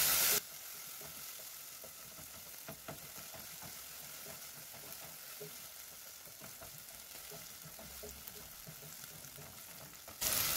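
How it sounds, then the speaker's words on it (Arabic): Red peppers and garlic sizzle in a frying pan as they are stirred, a quiet, even crackle lasting about ten seconds, with faint scraping and no voices. "قلبت الفلفل يا حبايبي مع الثوم اهو"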